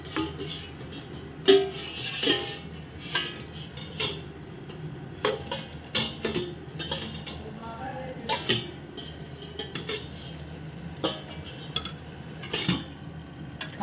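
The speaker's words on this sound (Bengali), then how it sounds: "এই যে তুলে নিলাম ঢাকনাটা।" A metal lid clatters and scrapes against a cooking pot as it is worked loose and lifted, a string of sharp clinks and knocks close by, with occasional brief voice sounds.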